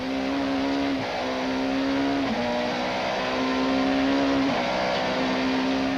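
Mid-1990s Super Touring race cars, including an Opel Vectra, Ford Mondeo and Toyota Camry, roar loudly at Aldo Scribante circuit, a sustained engine whine rising and dropping through gear changes as they race closely together.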